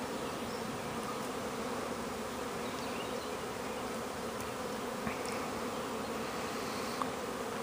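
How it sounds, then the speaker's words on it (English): A June honey bee swarm buzzes around a low tree, a continuous dense drone of many wings close by, steady and loud without pause, with no talking. "More bees coming in since I got out of the way."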